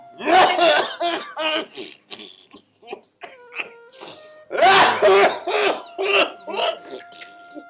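An old man coughs in a domestic setting, several harsh bursts in a row with pauses between, loud and close.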